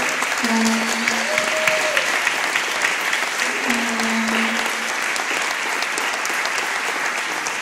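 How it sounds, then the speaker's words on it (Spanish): A church congregation bursts into loud, sustained applause for God after a youth worship song, a thick roar of clapping with a voice and some tonal sounds rising briefly over it. "aplauso fuerte a Dios."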